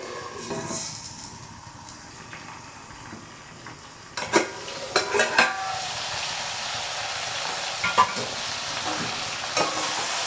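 Brinjal pieces steam and sizzle in a pan with a steady hiss, joined partway through by a few sharp clinks and scrapes of stirring.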